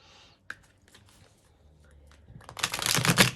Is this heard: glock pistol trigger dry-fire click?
no